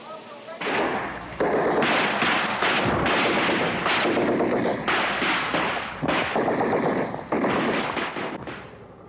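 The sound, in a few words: gunfire in archival Vietnam War Tet Offensive footage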